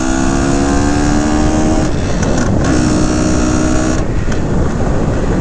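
A 1970 Yamaha RT1 360 two-stroke motorcycle engine revs loudly up close, its buzzing pitch rising and dropping in several blips, each with a brief crackle in between.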